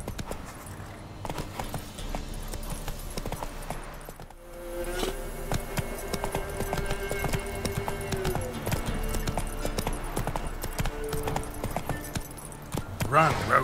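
Horse hooves clopping steadily in The Witcher 3 as the rider urges the mount on, a continuous rhythmic galloping bed under game music and ambient noise, with brief voices over it.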